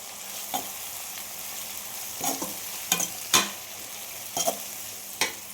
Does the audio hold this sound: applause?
no